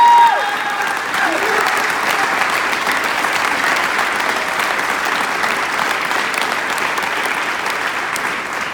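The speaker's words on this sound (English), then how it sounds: "Please, a round of applause for them as well." At a Marine Corps Ball, an audience breaks into loud, sustained clapping. A voice trails off at the start, then the applause holds steady and close before easing slightly at the end.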